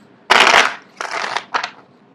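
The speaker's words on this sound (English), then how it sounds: "I don't know why people like to see the card shuffle live, I guess." Tarot cards shuffled by hand in three quick bursts, a long riffling rush, then a shorter one and a brief final flutter, fairly loud and close with no talk.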